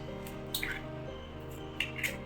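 Ground batter for an instant ottada is scraped and poured from a grinder into a vessel, giving a few soft, wet squelches and plops over a steady low kitchen hum.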